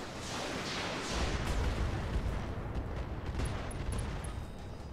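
Mech weapons fire at an enemy in the Roguetech video game, a dense, continuous rumbling barrage of booms and blasts that stays loud throughout with no talking.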